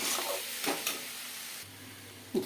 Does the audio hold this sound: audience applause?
no